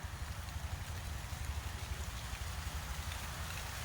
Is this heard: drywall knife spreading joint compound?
no